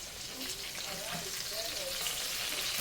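Burger patties sizzle in a pan just after flipping, giving a steady, close frying hiss that stays even and moderately loud, with faint voice-like sounds underneath.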